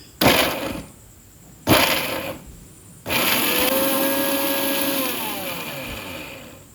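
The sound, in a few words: mixer grinder jar grinding two slices of bread into crumbs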